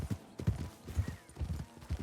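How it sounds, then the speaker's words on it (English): Horse hooves clip-clop in Red Dead Redemption 2, a steady rapid rhythm of close, loud hoofbeats with no talk over them. "I'm still getting used to this goddamn horse."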